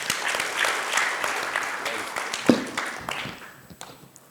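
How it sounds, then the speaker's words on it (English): A seminar audience at a consumer trends event breaks into applause. The dense clapping tapers away over a few seconds while a voice speaks over it. "A round of applause,"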